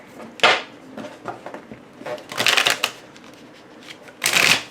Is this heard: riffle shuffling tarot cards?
yes